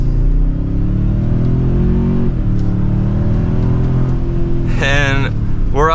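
A 2024 Toyota Sequoia Platinum accelerates hard from second gear, its engine droning loud and steady with rising pitch and a brief shift dip, heard from inside the cabin, with a short voice near the end.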